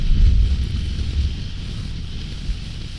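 Steady low rumbling wind buffeting on a moving 2023 Triumph Tiger 1200 Rally Explorer motorcycle, a constant close roar with no voices.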